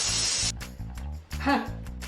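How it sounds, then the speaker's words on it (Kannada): A loud hissing burst of steam from a pressure cooker whistle opens the clip, followed by a person talking. "pressure cooker"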